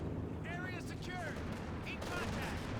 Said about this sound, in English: Strafe support run from Red.